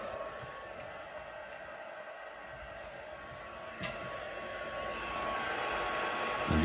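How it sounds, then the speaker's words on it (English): A heat gun blows hot air to dry ink on a hand-painted watercolour piece, making a steady, close whooshing hiss that grows slightly louder toward the end. "Using my heat gun."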